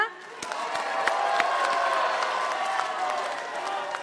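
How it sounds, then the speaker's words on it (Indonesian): A crowd at a gubernatorial election debate in South Sulawesi applauds and cheers, with scattered claps and whoops over a steady wash of clapping, while a voice speaks over it. "Kita berikan tepuk tangan yang meriah."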